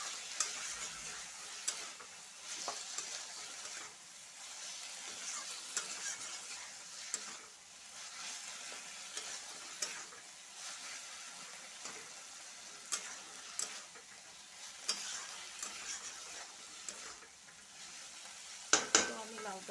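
Bottle gourd cooks with spices in a pan, its soft sizzle faint under repeated light spatula taps and scrapes that keep an uneven rhythm, fairly quiet and close.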